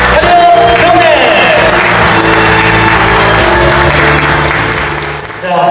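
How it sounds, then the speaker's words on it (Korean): Loud, sustained crowd applause with some cheering and voices at the founding event of the Liberal Democratic Party's central party in Korea, a dense roar of clapping that fades slightly near the end. "여러분 큰 박수 한번 부탁드리겠습니다"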